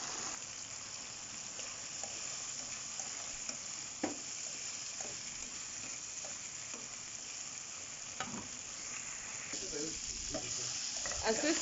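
Tomato cooks slowly in a pan for a sardine spaghetti dish, giving off a soft, steady sizzle with occasional faint stirring clicks and light pops, quiet and continuous throughout.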